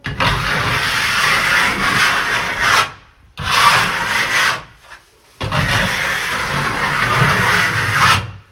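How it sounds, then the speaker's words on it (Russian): Steel trowel spreading damp wax across decorative plaster on a bathroom or toilet wall, heard as three long, close, raspy scraping strokes separated by brief pauses. "И точно так же кельмой растягиваем"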